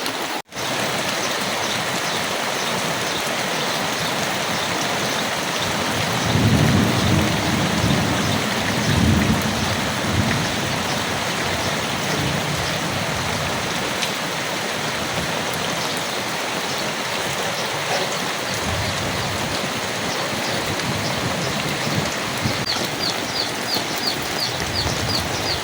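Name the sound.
rain and thunder during a Kalbaishakhi storm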